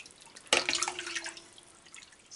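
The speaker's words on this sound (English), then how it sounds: "I'm going to add some more water now." Water poured into a pot of sheep's milk curds during Gouda making, a sudden splash that settles into a steady trickle and drip, close and fairly quiet.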